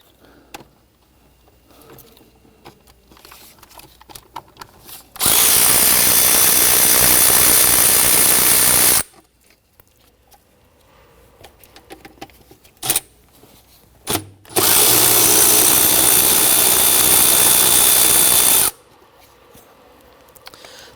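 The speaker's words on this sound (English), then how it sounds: "Now I want to go ahead and unbolt our fuel rail." A power tool unbolts two 12mm fuel rail bolts on a 2011-2015 Kia Sorento, running in two loud sustained whirring bursts of about four seconds each, separated by quiet pauses with faint clicks.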